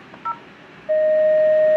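A Panasonic IP-PBX desk phone: a brief keypad dial tone blip, then after a pause a loud steady dialing tone held continuously against faint room noise, no voices.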